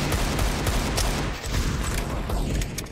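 Dense, continuous gunfire from a Counter-Strike 2 match, with overlapping bursts and rapid shots filling the whole stretch at a steady loud level, no clear talk over it.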